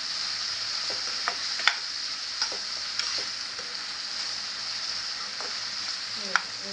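Chopped tomato and onion sauté with salt in a hot pan for dhaba-style egg bhurji, giving a steady, bright sizzle broken by a few light clicks of a spatula against the pan.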